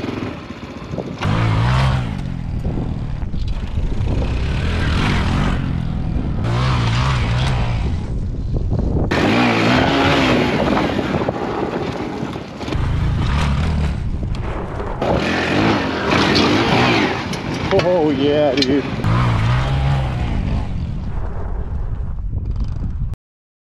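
A 2022 Honda Trail CT125 motorcycle is ridden close to the microphone, its small engine revving up and easing off in repeated surges, with wind buffeting over the engine noise throughout.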